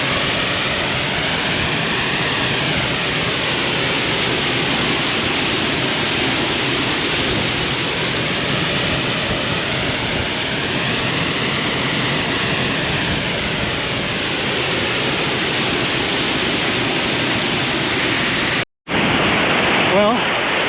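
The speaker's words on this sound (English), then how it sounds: "We're now behind the waterfall." Roar of a waterfall heard from behind the falling curtain of water, a loud, steady, dense rush that fills the scene without pause before cutting out abruptly near the end.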